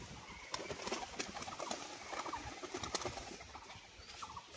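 Tumbler pigeons at a Murshidabad pigeon loft coo softly amid a dense bed of chirps and rustling, a faint continuous flock sound with no talking.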